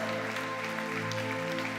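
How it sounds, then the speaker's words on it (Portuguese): A church congregation applauds during worship, steady clapping partly masked by sustained, droning music tones that run underneath throughout the brief moment. "aplauda ao Senhor"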